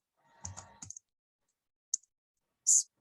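Close, crisp clicks of keys being typed on a computer keyboard as a terminal command is entered, a dense burst of several keystrokes followed after a pause by two isolated sharper key presses.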